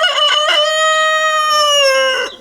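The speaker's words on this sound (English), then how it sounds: "And we got 2 roosters, and we've got, I think in total, about 14 chickens." A loud, close rooster crow on a farm in Portugal, one long drawn-out call that rises and holds before trailing off.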